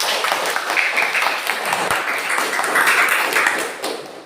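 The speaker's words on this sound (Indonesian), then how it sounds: "Ya, tepuk tangan dulu." A seated audience at a teacher-training lecture claps together, a dense, fairly loud wash of many overlapping hand claps that holds steady for several seconds before trailing off.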